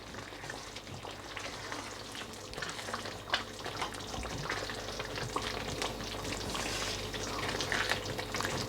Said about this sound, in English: And give it one final stir.